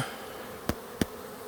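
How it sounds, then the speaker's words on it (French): A soft, steady buzz of many honeybees close by on a nucleus hive frame, with two sharp knocks against wood partway through. "Alors je vais enlever les abeilles du cadre"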